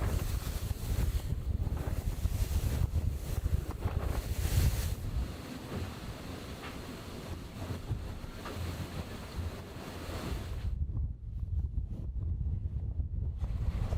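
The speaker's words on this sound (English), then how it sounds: "We're actually catching a little bit of wind now" Gusty wind buffets the microphone aboard an Ocean Race Europe offshore racing sailboat sailing upwind, with rushing water underneath; the roar is loud and uneven and eases briefly near the end.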